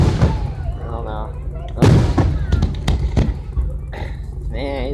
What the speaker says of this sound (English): there's some good fireworks